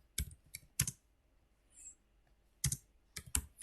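Keystrokes on a computer keyboard as numbers are typed, in short bursts of clustered clicks with quiet pauses between them, close and fairly soft with no talking.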